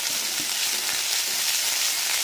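Onion paste and ginger-garlic paste frying in white oil in a pan, a steady dense sizzle with soft intermittent scrapes of stirring, close and continuous with no voices.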